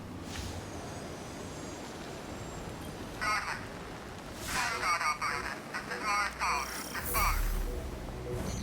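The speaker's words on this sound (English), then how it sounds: "That's the helm signal." A helm signal in the Destiny 2 video game comes through as a few crackly, static-laden bursts, rising and falling over a steady low hiss, like a weak transmission cutting in and out.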